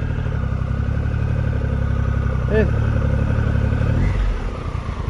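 A motorcycle engine runs steadily nearby, rising slightly in pitch and then easing off, with faint clatter underneath.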